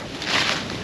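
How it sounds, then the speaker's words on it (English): Strong wind at a lake, a loud, steady rushing blast buffeting the microphone at close range. "This wind is brutal."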